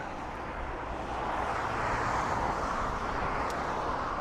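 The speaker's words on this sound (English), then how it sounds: "Second ATR, it's just taken off." ATR turboprop aircraft taking off at Dublin Airport, a steady broad roar of engines and propellers that swells slightly and holds, heard from a distance outdoors with no talk.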